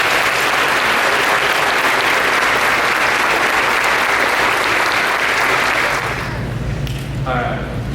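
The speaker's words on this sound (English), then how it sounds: "if you would, have a round of applause for Billy and Patty Miles." Sustained loud applause from a high school graduation audience, dense clapping filling the space for about six seconds before thinning as a voice begins to speak.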